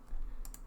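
A few quick keystrokes on a computer keyboard, faint and close, with a couple of sharper clicks near the end of a brief moment of typing.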